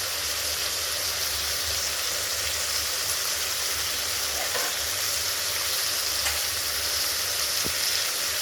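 Karjam sizzling in a covered pan, a dense, even hiss and crackle that holds steady and fairly loud from start to finish.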